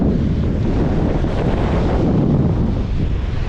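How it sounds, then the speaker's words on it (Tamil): Loud sea waves surge and roll near the shore in strong wind, with heavy wind buffeting on the microphone throughout and no voices. "அந்த அலையை பார்த்தீங்களா அவ்வளோ எங்கேருந்து எழும்புதுன்றது அந்த அலை"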